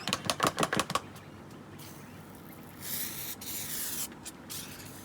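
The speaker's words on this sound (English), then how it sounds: "Get some more detergent around that bead." Quick bursts of detergent are sprayed around a car tyre bead on its rim: a rapid run of short hissing pumps at first, then longer fainter sprays separated by gaps, close up with no talking.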